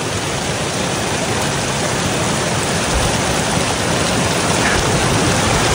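Mountain waterfall pouring steadily, a loud, unbroken rushing roar of falling water heard up close with no voices.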